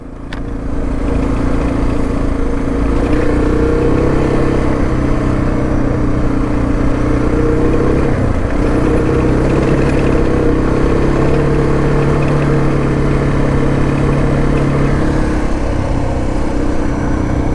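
A Suzuki DR650 motorcycle carrying a large 6.6-gallon Acerbis tank runs at a steady cruise out on the road, its loud engine drone holding constant close to the mic with wind rumble and no talk.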